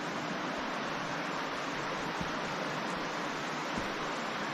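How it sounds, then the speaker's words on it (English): A stream runs beside the Indian Rockhouse hiking trail, its water giving off a continuous, even rushing hiss, steady and fairly loud, with no speech and only a couple of faint knocks. "there's a stream running along down here somewhere"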